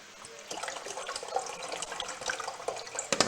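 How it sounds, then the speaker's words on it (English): Filtered water pours into a food package, a steady splashing trickle that starts after a brief quiet moment and runs on with small bubbling drips, close and alone without talk. "let me take my filtered water and put some in there."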